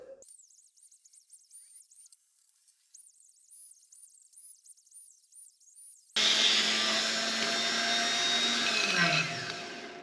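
A power tool cuts into a new skid plate for a Can Am Ryker, a loud steady grinding whine that kicks in abruptly partway through after quieter mechanical hum, then tapers near the end.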